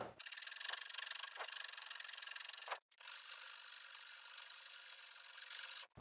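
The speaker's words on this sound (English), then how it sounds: "So again, just using rasps" Rasp filing pine wood on a guitar body, two long continuous coarse rubbing strokes, close and loud, with a short pause between them and no talk.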